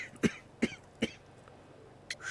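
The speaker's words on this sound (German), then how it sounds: "Ihr Husten klingt nicht gut." Four harsh, separate coughs, fairly close and moderately quiet, spaced about a third of a second apart with a longer gap before the last one.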